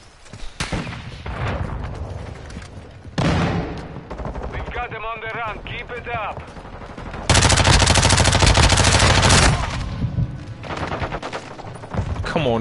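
Rapid bursts of automatic gunfire from the video game Modern Warfare 2, loud and dense, with sustained machine-gun volleys interleaved with someone talking over the action.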